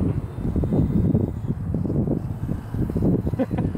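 Strong gusts buffet the microphone at an outdoor field while a small RC plane comes in to land in 15-mile-an-hour winds, a continuous loud low rumbling roar with irregular surges and no talk.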